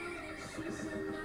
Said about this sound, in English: Is he on a horse?